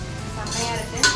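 Mutton being sautéed in masala in a pan for mutton biryani, with a busy run of metal utensil scraping and clinking against the pan that ends in a brighter scrape near the finish.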